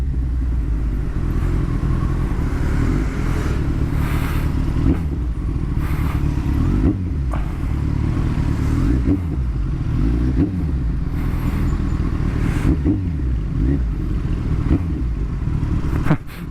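Kawasaki ZX14R motorcycle ridden through light traffic on a Philippine road: a loud, steady close engine drone with repeated revving swells and gear changes, no talking.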